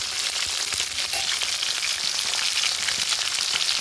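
Okra frying in plenty of oil in a pan for an Andhra village-style chutney, giving a steady, close, dense sizzle with scattered crackles and pops throughout, no voices.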